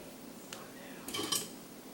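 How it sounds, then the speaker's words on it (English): A spoon moving butter around in a pot on the stove, with a few faint scrapes and light metallic clinks spread over two quiet seconds. "I'm just gonna move this butter around a little bit in the pot"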